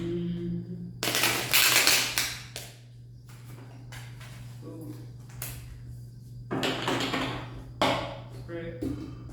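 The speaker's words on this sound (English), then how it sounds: "let's give it a quick shuffle" A mystic oracle card deck being shuffled quickly, with bursts of riffling and crisp card slaps in irregular clusters over a steady low hum, close by, with a voice speaking briefly.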